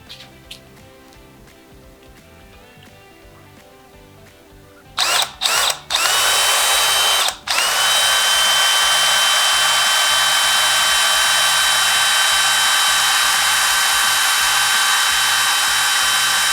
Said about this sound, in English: there's a rivet here and a rivet here, and we'll start again with a small drill